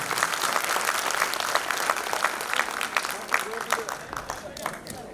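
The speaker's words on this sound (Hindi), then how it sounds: "मुझे चाहिए आप सबकी तालियों की गड़गड़ाहट" Thunderous applause from a gathered crowd at a birth anniversary celebration for Maharana Pratap held by a Mumbai community association, a dense roar of many hands clapping continuously, with a voice briefly audible within it.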